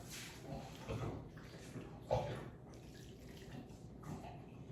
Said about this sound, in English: And then our 1 cup of hot water.